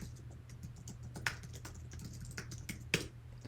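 Fingers type a password on a computer keyboard in a series of light, close keystroke clicks, with two sharper taps standing out, all over a steady low electrical hum.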